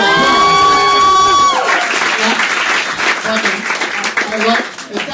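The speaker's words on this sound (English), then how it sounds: "Ladies and gentlemen, clap it up for Rich Boss." Comedy roast crowd bursts into loud, dense clapping and cheering after a tonal musical sting fades, the applause filling the room and tapering slightly toward the end.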